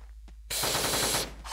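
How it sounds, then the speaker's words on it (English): Explosives going off in the Teleglitch video game: after a quiet start, a sudden loud, sustained burst of crackling blasts that rattles on for about a second before tailing off and flaring again. "I used explosives and he died"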